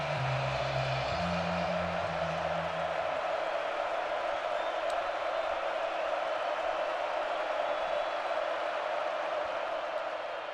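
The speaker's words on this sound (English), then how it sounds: "Oklahoma crowd on their feet and making noise" Oklahoma Sooners home crowd on its feet at a college football game against Michigan, a steady loud roar of crowd noise filling the stadium throughout, with no distinct speech.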